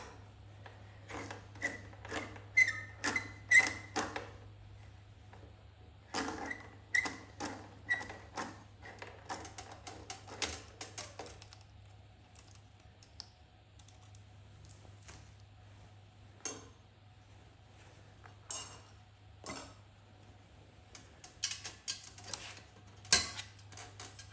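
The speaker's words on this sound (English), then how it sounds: "So we're going to install this baffle." Scattered metallic clicks and clinks from hand tools fitting the single bolt of an exhaust baffle on a Suzuki DR650, in bursts with quiet gaps over a steady low hum.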